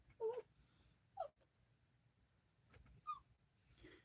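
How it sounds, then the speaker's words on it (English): A dog whines indoors in a few short, high, faint whimpers spread out over a few seconds, with quiet room noise between them. "My bad dog's going crazy. Always making that damn whining sound."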